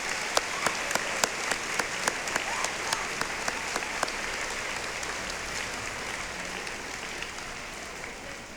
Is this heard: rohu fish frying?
no